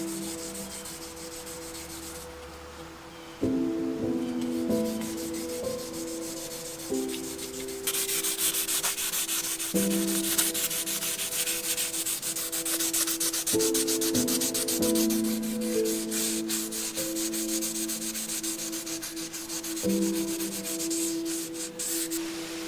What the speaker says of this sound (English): Since I'm going for a rough look, I'm just lightly polishing the high spots on this blade.